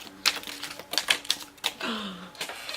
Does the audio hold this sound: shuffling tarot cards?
yes